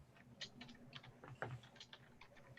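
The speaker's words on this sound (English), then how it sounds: "I'm just typing in chat" Keys tapped on a computer keyboard in irregular quick bursts, soft and fairly close, with no voices over them.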